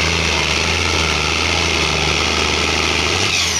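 A loud, heavy pulling-tractor engine, limited to 3,000 RPM, drones steadily at high revs during a tractor pull, a dense continuous roar with a slight shift near the end, no voices.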